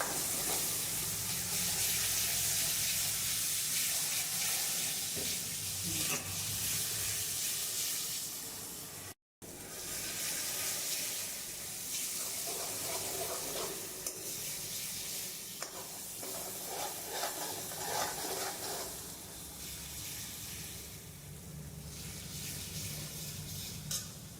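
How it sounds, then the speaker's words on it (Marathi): Onion masala paste for a spicy shellfish amti is sautéed in a pan, giving a steady close sizzle with stirring scrapes throughout and one brief break in the sound; no one speaks. "हे वाटण आपण व्यवस्थित परतून घेऊया"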